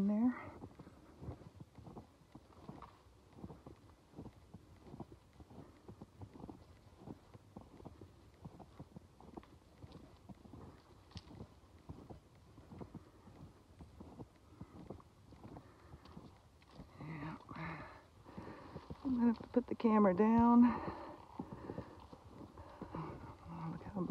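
Horses shift about in a snow-buried enclosure during a snowstorm, making faint, steady, rhythmic thuds and clops close by under wind. A person speaks briefly, and a louder burst comes near the end.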